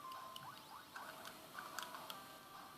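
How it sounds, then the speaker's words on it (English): Small plastic buttons below the screen of a handheld retro game console are pressed, giving faint, quiet clicks and ticks scattered irregularly over a low background hiss. "That was the sound of the buttons under the screen being pressed."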